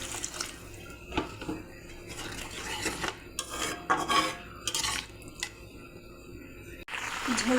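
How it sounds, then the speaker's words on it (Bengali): Water is poured into a pan of sautéed potatoes for a fish curry, with splashing and trickling amid clinks of metal pots and utensils in a home kitchen. "এবার জল দিয়ে দেবো।"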